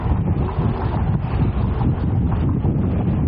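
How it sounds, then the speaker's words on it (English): Strong wind buffeting the microphone on King Street in Toronto, a loud continuous low rumble and roar that holds steady throughout with no speech. "Wow, the wind is picked up."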